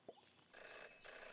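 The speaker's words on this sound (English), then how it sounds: "Jenny had learned never to ignore a ringing phone." A phone rings in the video game Jenny LeClue, a faint bright electronic ring tone sounding in two short pulses after a small click.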